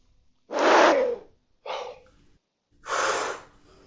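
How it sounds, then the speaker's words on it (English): Three slow, deep breaths, each a long, loud rush of air separated by short pauses of silence, heard up close. "Let's do some breathing."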